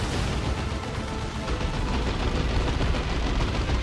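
Lascannon and krak missile fire in the Dawn of War 2: Retribution strategy game, a dense continuous barrage of blasts and gunfire-like cracks at full loudness, with no speech over it.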